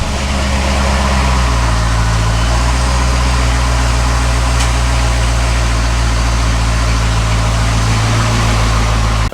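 A C6 Corvette with a limp-mode fault starts and runs, giving a loud, close, steady low engine drone that continues evenly with no talk over it.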